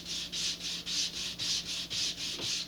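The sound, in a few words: sanding a laser-cut model rocket kit part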